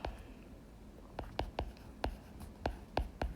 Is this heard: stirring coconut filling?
no